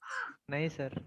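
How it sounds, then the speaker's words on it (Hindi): A crow caws once, a harsh raspy call, followed right after by someone speaking a few words. "तो सही में कौवा बोल रहा है"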